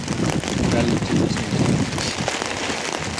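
Rain falls steadily on a fishing pond, a dense hiss of drops striking surfaces close to the microphone, with some wind buffeting and low murmuring voices underneath.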